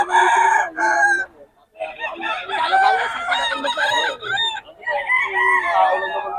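Roosters crow loudly and repeatedly, one call after another with short gaps between them. The birds are gamefowl at a market in Bocaue, and they sound close by.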